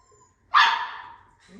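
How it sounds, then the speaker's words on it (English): A single loud, close dog bark rings out sharply, then trails off, with brief faint noise afterward. "Barked at me while changing exercises."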